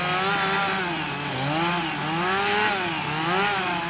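A chainsaw carving wood, its engine snarling loud and close with a wavering pitch as the blade bites and eases, running continuously without talk.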